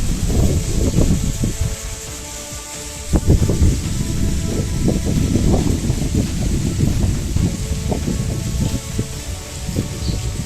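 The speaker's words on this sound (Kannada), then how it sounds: "ಜೋರು ಮಳೆ ಇದೆ ಈಗಲೂ" Heavy monsoon rain in Kodagu, Karnataka, pours down on flooded roads in a loud, constant roar, with wind buffeting the microphone and low rumbles underneath.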